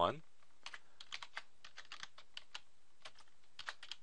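Quick, irregular computer keyboard clicks tapping away at a steady typing pace, fairly close and crisp, with no voices.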